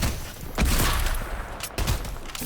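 Gunfire in a first-person shooter video game, two bursts of sharp, punchy shots about a second apart over a low background rumble, fairly close and heard without talk.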